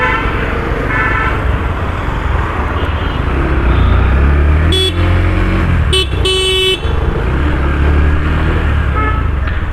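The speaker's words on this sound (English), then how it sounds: "Now the horn is kind of muddy, the sound is not that great actually" Horn of a 2021 Yamaha FZ-S Version 3.0 motorcycle, a few short muddy honks near the middle, close and loud over steady engine and road noise.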